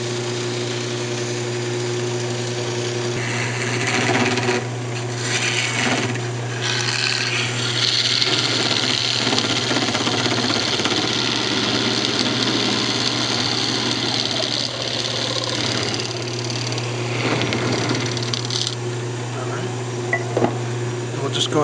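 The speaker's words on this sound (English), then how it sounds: "We'll go ahead and part it off." A wood lathe spins a turned wooden perfume bottle while a tool parts it off, giving a steady low motor hum with scraping, rasping cuts rising and falling over about twenty seconds, close and loud.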